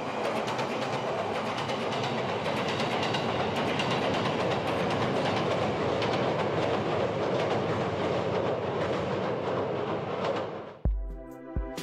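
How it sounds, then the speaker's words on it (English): An express train passing by, a loud sustained roar of wheels and rumbling cars close at hand that drops off abruptly near the end. "Oh, here comes a train. The express."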